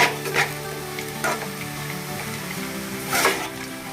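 Light sizzling of tempering ingredients for amla rice frying in a pan, a steady hiss with a few brief louder bursts as it is stirred, heard close with no talking.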